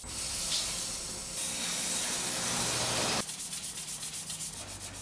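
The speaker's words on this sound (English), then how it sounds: "Then it's everyone's favorite step, sanding." Steady, rough abrasive rubbing of sandpaper against wood, continuous and close, then shifting to a rhythmic back-and-forth scrubbing near the end.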